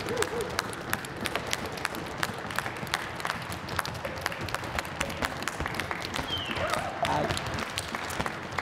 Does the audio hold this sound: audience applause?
yes